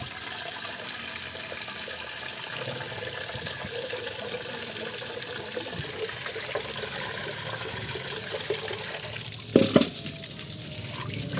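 Water from a bucket pours steadily into a washing machine with a continuous splashing gush for several seconds, followed by a brief clunk near the end.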